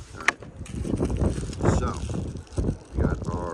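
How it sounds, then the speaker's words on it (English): Gusty wind beside a pond buffets the microphone in low rumbling bursts while a person talks over it. "Of course the wind is picking up again, making things more difficult."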